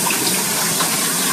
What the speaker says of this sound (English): I've got a pretty good rinse on this